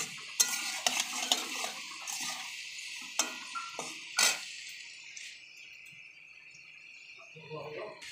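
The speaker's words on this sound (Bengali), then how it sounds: "আর একটু ভাজা হবে বন্ধুরা আলুগুলো" Potatoes fry in oil in a pan while being stirred, with scraping spatula strokes and clatters over a soft sizzle, busier at first and thinning to a quieter hiss, ending with another stir.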